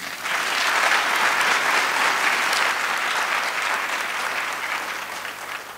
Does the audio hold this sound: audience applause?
yes